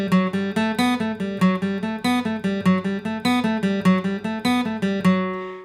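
Guitar picking The Foxhunters in quick eighth notes grouped in threes, with clear, evenly spaced plucked notes and accented group starts, played solo and close.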